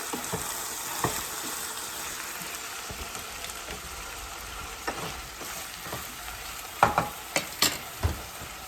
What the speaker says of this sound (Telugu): ఇది కలుపుకొని ఒక మూడు నాలుగు నిమిషాలు మగ్గనిద్దాము ఆయిల్లో